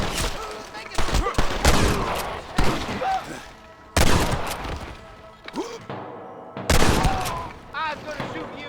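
Gunfire in the Western video game Red Dead Redemption: bursts of rapid shots and loud impacts come in several waves over a tense outdoor shootout, with game voices and music mixed in.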